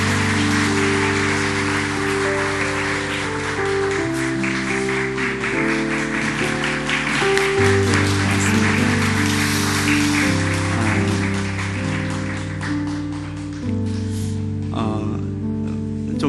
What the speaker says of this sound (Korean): 큰 박수로 우리 축복하겠습니다